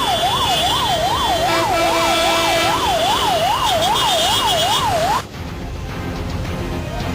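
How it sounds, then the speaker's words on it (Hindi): An ambulance siren wails loud and close in a traffic jam on waterlogged Gurugram roads, its steady rising-and-falling tone repeating for about five seconds before cutting off abruptly and leaving a low traffic rumble. "एम्बुलेंस के हॉर्न की आवाज भी जाम में दबकर रह गई थी।"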